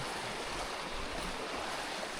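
A creek flows steadily in Allegheny National Forest, its broad, even rush of water close by and continuous, with no voices over it.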